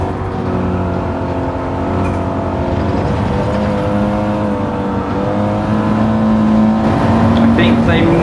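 A race car engine in Gran Turismo 7 drones steadily down a straight in fifth gear, loud and sustained, with other cars around in an open online lobby race.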